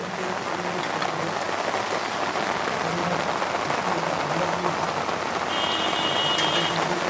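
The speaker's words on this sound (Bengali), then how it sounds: "সেই পূর্বাভাস মতনই কিন্তু আবারও শুরু হয়েছে বৃষ্টি" Rain pours down steadily in Kolkata, a dense, continuous hiss of drops striking surfaces with no breaks, heard alone at a constant loudness.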